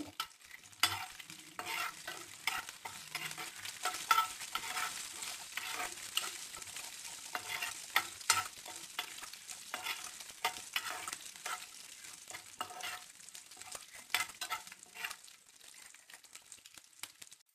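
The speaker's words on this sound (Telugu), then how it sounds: "కొంచెం ఆవాలు, కొంచెం పోపులు, కరివేపాకు, ఎండుమిరపకాయలు వేసి బాగా ఫ్రై చేసుకోవాలి" Oil sizzles and crackles steadily as mustard seeds, curry leaves and dried red chillies fry for a tempering in a pan, with frequent scraping and stirring clicks throughout, close and fairly quiet.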